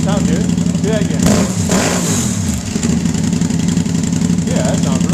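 A Can-Am Spyder with a Hendel aftermarket exhaust idles loudly and steadily, then revs up sharply in a couple of bursts before settling back to a throaty idle. A voice talks faintly underneath.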